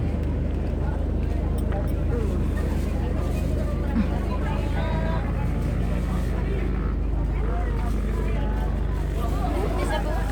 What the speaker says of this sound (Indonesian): Nah, ini kapal.